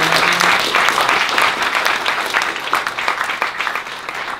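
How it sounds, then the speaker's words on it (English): An audience gives a round of applause for a speaker at a startup event, dense loud clapping that thins out over a few seconds. "let's give a round of applause to Dave"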